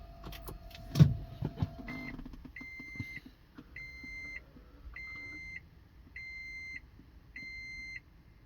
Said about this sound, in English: let's go ahead and turn on the vehicle